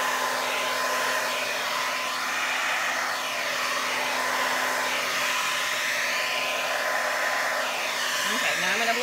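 A hair dryer blows steadily to spread paint into flower shapes on a 12x24 canvas, a loud continuous whooshing hum held throughout with no talk.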